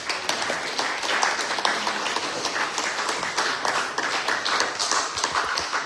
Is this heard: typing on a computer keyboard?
no